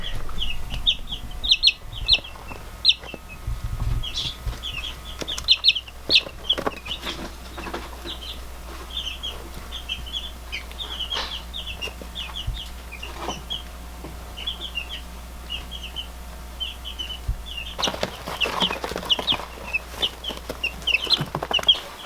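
Newly hatched chicks in a brooder cheep steadily throughout, many high peeps overlapping close by, with occasional soft rustling and an undercurrent of low hum.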